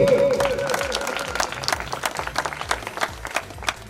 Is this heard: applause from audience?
yes